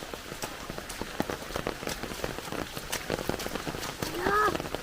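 Heavy rain pours down with rushing water, a dense steady patter of drops hitting surfaces throughout, moderately near, with a brief tonal sound near the end.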